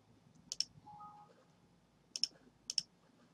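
Mouse clicks on an OK button in a computer setup dialog: a few crisp, faint double clicks spaced apart in an otherwise quiet room.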